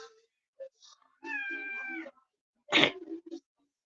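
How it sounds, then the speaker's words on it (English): A cat meows several times in a quiet room: short chirps, a drawn-out tonal meow, then a sharper harsh call, fairly close and alone without talk. "Silly cat."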